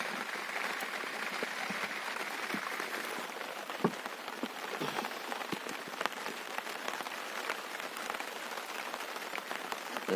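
Rain patters steadily on a boat moored among Sundarbans mangrove forest, a dense, even drumming of drops on the surface with occasional louder hits, no talk.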